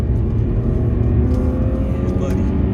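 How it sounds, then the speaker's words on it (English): A 2012 Audi S4 engine rev on a downshift during a backroad drive, with a loud, steady low-pitched engine roar and layered harmonic drone holding constant throughout, close up. "Yeah, it sounds great when you shift."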